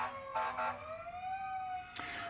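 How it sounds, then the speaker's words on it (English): An emergency siren wails steadily in the background, its tone rising and falling, with a brief sharp burst near the end. "please excuse the siren in the background here"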